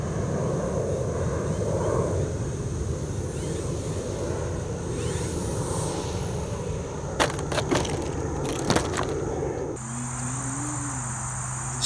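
An RC model airplane taking off from a rough, cracked dirt bush strip, its engine a steady droning whine, with crickets chirping throughout and a few sharp clicks near the end.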